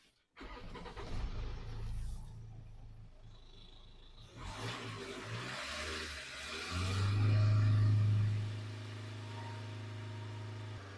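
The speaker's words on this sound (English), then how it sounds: "now I'm going to start the car and hold the RPM 3000" A Land Rover Discovery diesel engine cranks and starts up close, settles into a rough idle, then is revved up and held at a steady higher pitch for several seconds before easing back.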